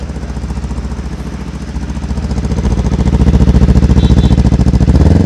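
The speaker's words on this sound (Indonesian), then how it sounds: "Ya, sama sih bunyi dua silinder di mana-mana yang kayak gini ya bunyinya." A BMW GS1200 two-cylinder motorcycle engine idles close by, with a loud, steady and even pulsing throb that grows slightly louder toward the end, and no one speaks.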